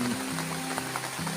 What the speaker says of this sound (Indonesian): Hujannya masih berlanjut sahabat.